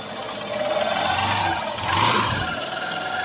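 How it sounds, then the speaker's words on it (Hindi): A Honda Shine motorcycle engine runs after a half engine fitting, idling close with a steady mid-pitched hum that swells briefly as the throttle rises, then settles, no talking. "सबसे पहले आप इंजन की साउंड देखें"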